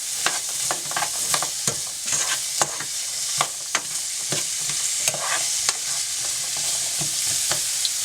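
Onions sizzle in olive oil in a skillet over medium-high heat, with repeated scraping stir strokes and small clicks over the steady fry, close and clear.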